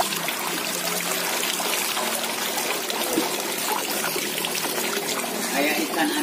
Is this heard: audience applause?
no